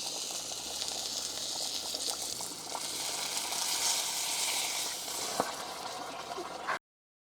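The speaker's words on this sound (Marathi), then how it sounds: "तर त्या लसणाची फोडणी टाकते" Close, bright sizzling and crackling as garlic hits hot oil on a wood-fired stove, steady and lively for several seconds before cutting off abruptly.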